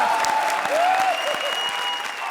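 Studio audience on a TV comedy show bursts into loud, steady applause that fills the whole stretch without pause, with faint whistle-like tones and crowd noise mixed in.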